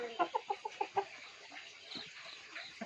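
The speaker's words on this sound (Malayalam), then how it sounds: "കോഴിക്കളൊക്കെ ഉള്ളിലേക്ക് ആക്കിട്ടോ" Chickens, including a Fayoumi cross hen, settling inside the coop at evening, giving a quick run of about six clucks in the first second, then softer, scattered murmurs and rustling, fairly faint and close by.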